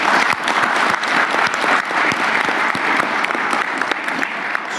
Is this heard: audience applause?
yes